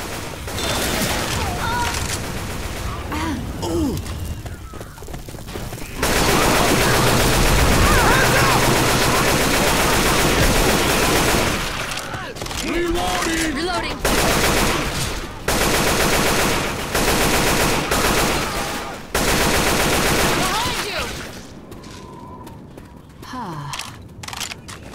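Rapid bursts of automatic gunfire and shots from a Left 4 Dead 2 match, loud and nearly continuous with brief pauses, under occasional speech.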